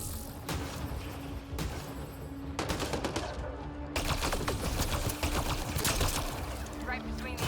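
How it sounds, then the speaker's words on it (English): Rapid weapon fire rattles in Mass Effect: Andromeda, with dense repeated bursts broken by short pauses, loud and close, while someone talks over the shooting. "I'm shooting around the corner with this thing."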